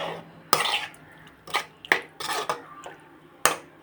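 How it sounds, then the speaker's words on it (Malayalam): Spoon scraping and clinking against a pan as cooked beef is mixed into masala, a series of sharp close taps and scrapes with short stirring rustles between them. "വേവിച്ച ബീഫ് അതിലോട്ടിട്ട് നല്ലതുപോലെ ഒന്ന് മിക്സ് ചെയ്തെടുക്കുക"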